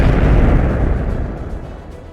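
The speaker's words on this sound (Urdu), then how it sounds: "پھر اچانک ایک زوردار دھماکہ ہوا۔" A heavy store of gunpowder blows up beside a fort wall, a loud deep boom that rolls and slowly fades over two seconds, with no voices.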